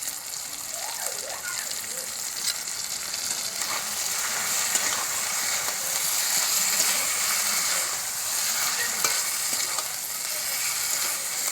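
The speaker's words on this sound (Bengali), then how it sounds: "টমেটো কুচি দিয়ে কিছুক্ষণ কষিয়ে নেব।" Chopped tomatoes sautéing in a pan for a magur fish curry, a loud, close, continuous sizzle and bubbling with occasional stirring scrapes and no clear talk.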